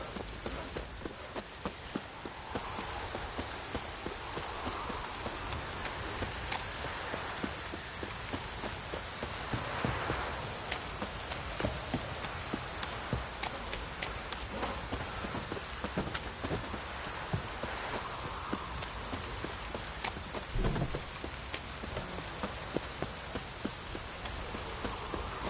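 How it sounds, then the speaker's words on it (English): A heavy, steady downpour hisses and patters throughout a Witcher game scene, with faint rumbles that may be thunder and a soft clip-clop of hooves underneath; no voices. "Proper downpour this is."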